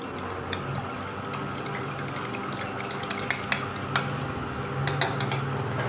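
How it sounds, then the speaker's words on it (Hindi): Eggs being beaten with a fork in a bowl for chicken nuggets, giving a steady, rapid clinking and scraping of metal against the dish with sharper taps toward the end, close and alone. "सबसे पहले अंडों को बीट कर लेंगे।"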